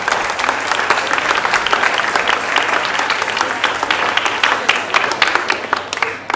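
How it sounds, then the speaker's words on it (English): An audience at a school quiz competition claps for contestants, a steady, dense round of applause lasting several seconds without a break. "A round of applause, ladies and gentlemen, for Abo EPJHS."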